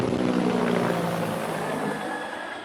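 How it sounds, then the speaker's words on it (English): A Vietnam-era Huey helicopter passes overhead, a loud, steady broadband rotor and engine roar that holds strong and then eases slightly as it moves on, with no talking. "That's a freaking Huey."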